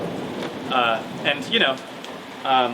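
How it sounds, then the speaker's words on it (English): Rain falls steadily outdoors with distant thunder rumbling in Neuchâtel, Switzerland, behind people talking over it. "Appropriately, it's now thundering and raining horrifyingly behind us."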